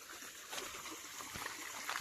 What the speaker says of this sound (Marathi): इथे झरा हा नेहमी वाहतच असतो त्या पाणवठ्यावरती